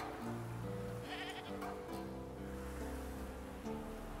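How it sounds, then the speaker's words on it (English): Repeated wavering bleats from a staked goat in The Witcher 3 video game sound close and clear over a continuous wash of ambient game background noise. "It's the goat."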